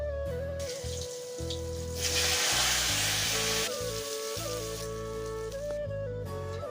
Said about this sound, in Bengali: এখন আমি সর্ষের তেল দিয়ে দেবো কড়াইয়ে দিয়ে সর্ষের তেলেই ভাজাটা করে নিই